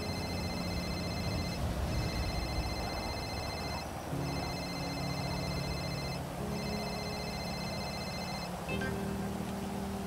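A telephone rings in repeated, evenly spaced electronic bursts, about four rings with short gaps between them, steady and fairly close over a low background hum.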